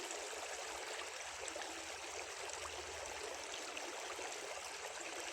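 A small river flows between two lakes, a steady rushing and gurgling of water that stays even throughout, close by and with no voices.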